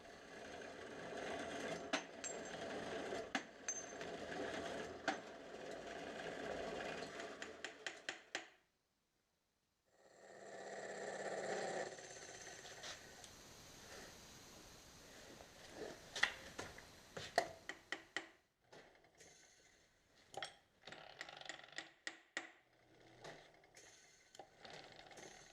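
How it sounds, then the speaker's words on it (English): A lathe cutting metal parts runs in a busy workshop, with dense rattling and whirring machining for several seconds, a short pause, then more grinding and a string of sharp clicks and knocks, close and moderately loud. "put them in the lathe, and start making a bunch"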